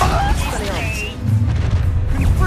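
Depulso force spell blast cast in the video game Hogwarts Legacy, a loud booming burst with a whooshing magical sweep, followed by low rumbling game effects throughout.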